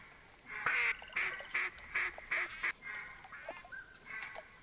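Ducks in the hunting game theHunter Classic, set in a bayou, quack and honk in a rapid series of nasal calls, fairly faint and somewhat distant.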